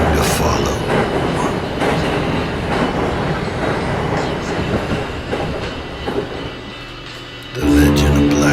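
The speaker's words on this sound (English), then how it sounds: "When you hear that train a-rolling, trouble is soon to follow." A train rolls along the rails with a steady, loud rumble and rattling wheels, swelling again near the end.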